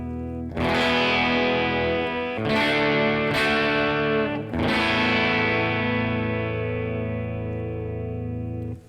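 Sustained electric guitar chords through a NUX MG-300 MKII multi-effects unit, switching between three distinct distorted and chorused tones, each ringing out loudly with no voices.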